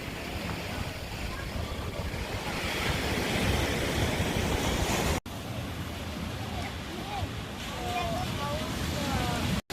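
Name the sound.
ocean waves on a beach in Kuta, Lombok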